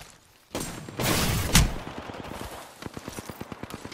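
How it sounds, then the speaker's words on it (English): Enemy gunfire in a video game: a loud burst of shots and an explosion-like blast, then a rapid run of evenly spaced automatic rounds, close and intense. "They're shooting at me."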